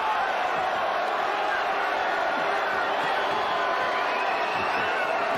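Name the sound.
boxing match crowd noise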